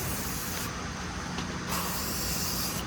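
Rust-Oleum powder coat sprayed from an aerosol can onto a hot, freshly welded part on a 1965 Ford F100 build, a steady close hiss in bursts with brief pauses.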